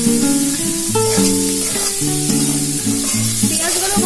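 Grated garlic and green chilli sizzle in hot oil while being stirred for a Punjabi dhaba-style mixed dal, a steady close crackle beneath prominent melodic background music.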